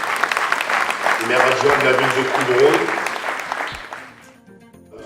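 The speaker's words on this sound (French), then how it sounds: "on peut les applaudir, merci" People at a local amateur football awards evening applaud the deputy mayors, loud sustained clapping with a voice speaking over it before it tapers off.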